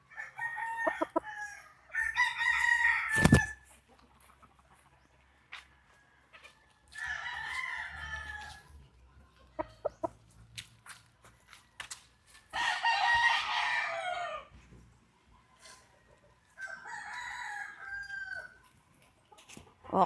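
Yellow-legged hatch gamefowl roosters, a cross of three-quarters yellow-legged hatch and one-quarter sweater, crow several times in turn, each call a loud drawn-out cry separated by quiet gaps and a few short clucks.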